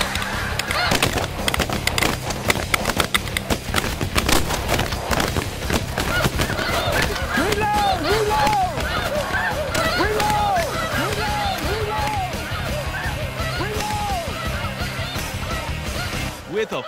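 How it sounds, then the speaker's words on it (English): Massive flock of thousands of snow geese passing overhead, a dense, continuous chorus of honking calls filling the air, with individual calls rising clearly out of the mass, heard during a hunt with voices and some bangs mixed in. "a flock of thousands of snow geese form a massive moving cloud above us"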